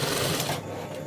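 A sewing machine stitches a pocket onto women's casual trousers, a loud close steady whirring run that stops abruptly partway through and leaves a softer hum.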